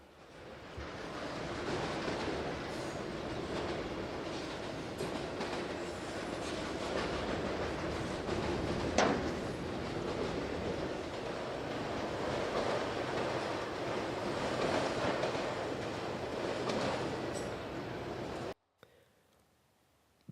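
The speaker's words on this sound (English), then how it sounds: "the coal train is seen slowly moving out of frame as the main line currently belongs to it over Rich Mountain and beyond" A coal freight train hauled by a BNSF EMD SD70ACE and a Union Pacific AC44 rolls slowly along a mountain main line, giving a continuous rumble with wheel clatter and one brief squeal. It cuts off abruptly near the end.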